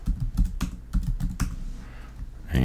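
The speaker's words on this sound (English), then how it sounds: "run it, type in a few numbers" Numbers tapped in on a computer keyboard, a quick close run of crisp key clicks with short pauses between bursts, alone with no talking.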